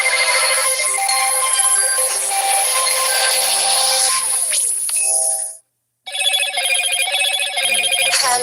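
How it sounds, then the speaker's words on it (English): A mobile phone ringtone plays a bright, repeating electronic melody, loud and close, pausing briefly before starting again, with no talk over it. "Sorry, my phone's ringing."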